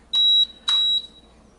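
Two short, high electronic beeps from an HY851 drone as it pairs with its remote controller, close and clear, the second tone slightly longer, with no talking.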